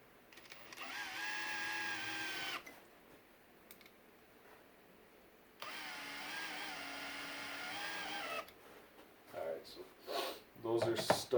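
A Makita 18V subcompact impact driver or drill drives 3-inch Torx construction screws: two sustained motor whirs of about three seconds each with a quiet gap between, followed by short irregular bursts, close up with speech-like sounds mixed in.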